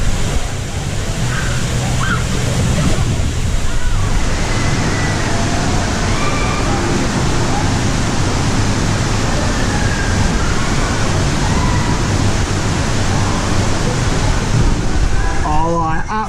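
Water rushing down the Krakatoa Aqua Coaster family water slide at Universal's Volcano Bay, a loud, continuous roaring splash like surf that holds steady throughout, with faint crowd murmur and a brief voice near the end.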